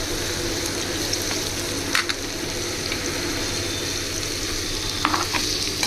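Mustard seeds and curry leaves sizzle in hot oil for onion chitranna, a steady close crackle with occasional sharper pops and faint stirring, no voices.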